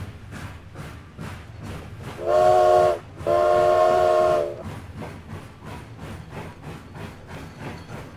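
A Minecraft train ride: two long steam-whistle blasts, the second slightly longer, ring out over a steady rhythmic chugging of the moving train, loud and close.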